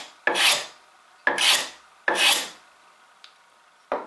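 Hand plane shaving across the end grain of a wooden workpiece: three loud, rasping strokes in steady rhythm, then a faint tick and the start of a fourth stroke, close up with no talk.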